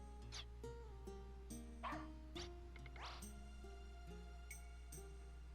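Short yips and barks from a puppy in the video game Wild ARMS 2, a few quick bursts scattered over steady game music, moderately close.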